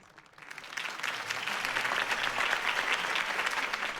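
Crowd applause after Harvey Dent's campaign speech in a Batman video game, starting quietly and swelling within a second into dense, sustained clapping that holds steady through the end.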